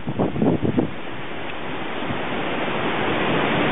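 Strong wind gusts in Ohio roar as a loud, steady broadband rush against the microphone, building slightly toward the end.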